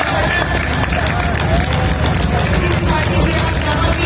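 Crowd applause in an indoor stadium in Raipur, a dense steady roar of clapping that fills the whole stretch, loud and sustained with a faint murmur of the audience mixed in.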